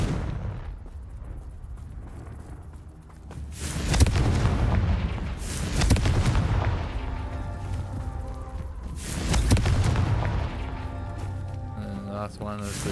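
Confringo fire spell explosions blasting during Merlin trials in Hogwarts Legacy, several loud booming bursts spaced a few seconds apart over steady game ambience, with a voice talking over them.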